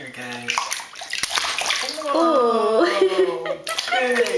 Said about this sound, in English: Oh, big splash.